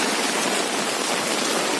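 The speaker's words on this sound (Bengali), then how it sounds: "দেখো কি বৃষ্টি হচ্ছে" Steady, dense hiss of heavy rain pouring down, close and continuous with no voices.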